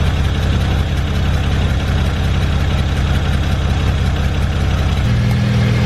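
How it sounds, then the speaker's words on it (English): A warm car engine with a ZF automatic transmission idles steadily during a fluid change, a loud, even low rumble that shifts slightly in pitch near the end. "the car warm and the engine running at idle speed"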